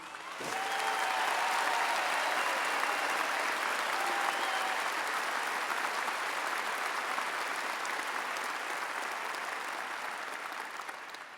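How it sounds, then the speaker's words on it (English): At a 2015 high school graduation ceremony, the audience breaks into applause for the graduating students, a full sustained round of clapping that swells quickly and fades slowly, with a brief whoop near the start. "Let's give these students a round of applause."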